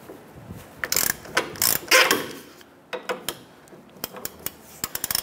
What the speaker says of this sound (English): Using a 17 millimeter socket here, we're gonna go ahead and loosen this nut for our lower strut clevis fork bolt.